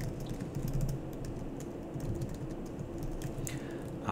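Steady bursts of typing on a computer keyboard, close and fairly quiet, with irregular clicking keystrokes and no talking.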